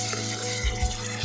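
Katla fish kaliya masala sautéing in oil, a soft continuous sizzle with a few dull thuds from stirring in the pan.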